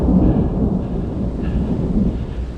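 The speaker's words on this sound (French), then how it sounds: "Un petit orage, ouais." Loud rumbling thunder rolls through a storm on a cycling climb, a deep sustained boom with rain hissing underneath, close and continuous, with no talking.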